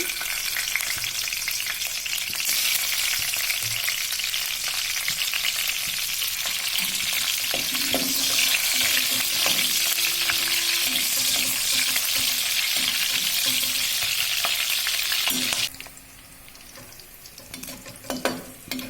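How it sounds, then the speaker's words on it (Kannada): Green chillies fry in a pan with a loud, continuous sizzle and occasional stirring scrapes, dropping abruptly to quiet near the end. "ಈಗ ಹಸಿಮೆಣಸಿನ್ಕಾಯಿ ಹಾಕಿ ಫ್ರೈ ಮಾಡ್ಕೋಬೇಕು"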